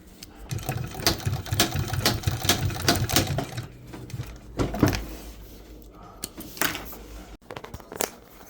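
A sewing machine stitches boat seat cover upholstery material slowly, stitch by stitch, in uneven bursts of mechanical clatter. Pauses separate the runs, and handling noises and clicks come up close, with no talking.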